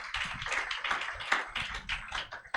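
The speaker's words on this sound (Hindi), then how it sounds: "जोरदार ताली बजाकर धन्यवाद करें।" A church congregation claps loudly during a Sunday service, dense rapid hand claps that are close and steady for the whole stretch.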